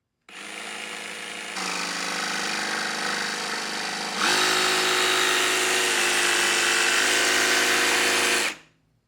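RIDGID 18V OCTANE cordless jigsaw running alone and close, a continuous buzzing whine that steps up in speed and pitch twice before cutting off abruptly.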